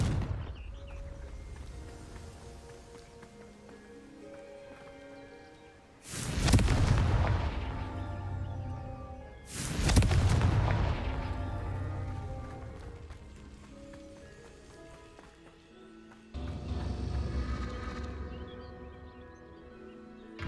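Confringo explosive spells blast in Hogwarts Legacy on PS5 during a goblin fight: several heavy booming explosions with long rumbling tails burst over ambient game music and effects.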